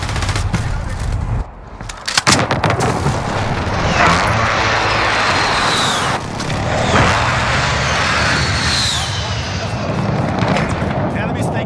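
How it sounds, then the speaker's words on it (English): Precision airstrike explosions land in Call of Duty: Modern Warfare, dense and loud booms layered with rolling gunfire and a jet roar, continuous across the clip, with a player talking over the chaos. "Enemy precision airstrike."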